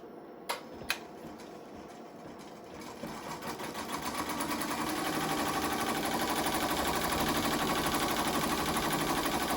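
A home embroidery machine starts stitching a cupcake design in white thread on an in-the-hoop pot holder. After a couple of sharp clicks it ramps up into a steady, fast mechanical whirring buzz that continues close by.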